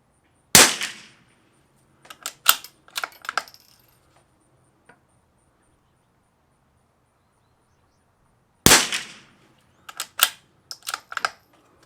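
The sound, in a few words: rifle shots, Lithgow LA101 and CZ 455, Eley Tenex ammunition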